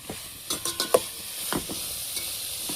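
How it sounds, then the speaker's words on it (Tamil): Vegetables sautéing in a pan for sambar give a soft, steady sizzle, broken by several sharp spoon scrapes and clinks in the first second and a half, then quieter stirring. "2 நிமிஷம் வதக்கணும் காயெல்லாம்"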